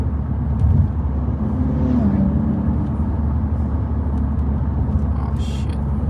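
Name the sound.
VW Scirocco diesel engine accelerating in fourth gear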